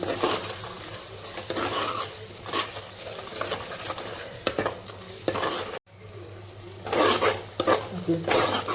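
Onion sautés with turmeric and chilli powder in a pan under a steady sizzle, as a spoon scrapes and stirs with repeated close clinks. A brief break interrupts the sound, then the stirring resumes.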